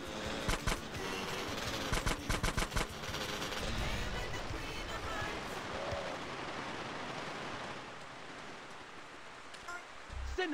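Gunfire in the video game GTA San Andreas, rapid bursts of close automatic shots early on over a dense roar of noise that continues for the rest of the clip.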